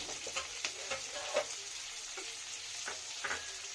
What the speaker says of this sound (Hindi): थोड़ी देर इसको भुनने देंगे, मसाले को, प्याज और कैप्सिकम को।